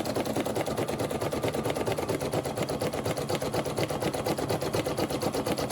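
Brother SE1900 embroidery machine stitching a heart appliqué, a steady, loud, rapid mechanical whirring and clatter of the needle going over existing stitches, continuous and close with no talk.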